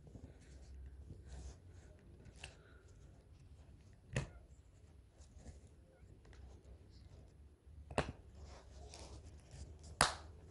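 A car key fob casing for a Nissan remote snaps shut with several sharp, close clicks spread across a quiet stretch, the loudest near the end, amid soft handling noise.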